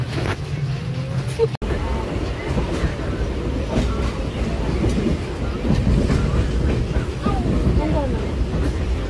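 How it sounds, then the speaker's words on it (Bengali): Train running on rails during a homeward trip, a steady close rumble with rattling carriage noise throughout, one brief sharp dropout early on, and faint voices underneath. "সো আমরা ট্রেনে করে বাড়ির উদ্দেশ্যে রওনা হয়েছি।"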